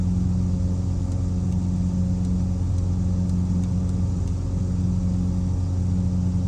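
A steady, droning aircraft engine in Microsoft Flight Simulator 2020 during a bush flight over the Apennines, holding a constant low hum and rumble at even power throughout, with no talking.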